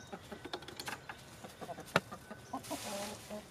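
Chickens scratching through old shavings give soft, scattered clucks and small clicks, faint and close by, with light rustling underneath.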